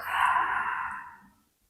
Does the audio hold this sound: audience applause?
no